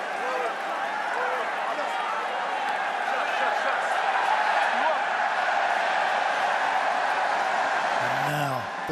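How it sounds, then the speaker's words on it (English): Rugby stadium crowd at a French Top 14 match between Stade Rochelais and RC Toulonnais, a sustained loud roar of cheering spectators, steady throughout, with a commentator speaking over it. "Now the crowd really getting behind their side"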